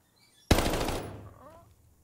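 A single burst of gunfire from a Call of Duty Vanguard battle royale match cracks out loud and close, then tails off over about a second.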